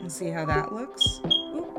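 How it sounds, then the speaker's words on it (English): A fire alarm running its self-test gives two short, high electronic chirps indoors, faint and brief beneath a person talking. "That was the fire alarm testing itself."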